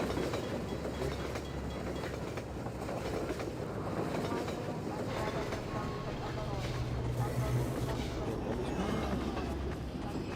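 Train in a video game rolling past with a continuous low rumble and rhythmic rail clatter, steady and fairly loud throughout, with people talking over it.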